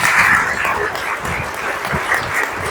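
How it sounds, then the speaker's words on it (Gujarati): Applause from an audience at a college annual prize distribution ceremony, a steady broadband wash of clapping held at an even level throughout, with no voices over it. "જોરદાર તાળી એને માટે."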